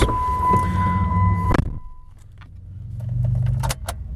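Keys for a 2018 Jeep Wrangler JK Sport Unlimited jangle and clatter up close inside the vehicle for about a second and a half, with a steady chime tone, then the cabin falls quieter with a few faint clicks.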